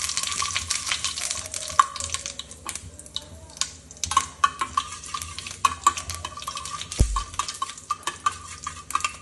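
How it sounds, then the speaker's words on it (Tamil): Mustard seeds and urad dal tempering in hot oil for a chutney, giving a dense crackling sizzle with many small sharp pops and occasional clinks of a utensil against the pan throughout. "கடுகு இதுவானோடனே உளுந்து போட்டுட்டு"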